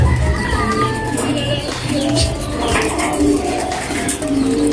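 Pigeons in a loft coo softly in low, rolling calls that overlap one another, close by, against a busy background.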